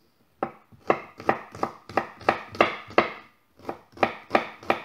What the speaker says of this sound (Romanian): Îl tăiem așa mărunțel.